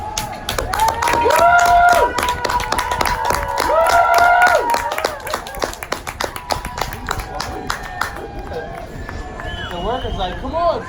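A crowd of cruise passengers at a port stop claps rapidly and cheers, with dense hand claps and whoops up close and people talking throughout.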